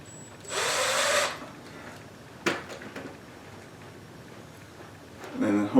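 A cordless power driver whirs in a short burst, driving a screw to mount a ceiling fan light kit. A sharp knock and light clicks follow, then the driver starts up again at the end.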